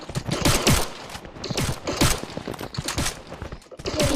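Rapid gunfire in a shooting video game, with dense overlapping bursts of automatic fire and single shots that run continuously and loudly throughout.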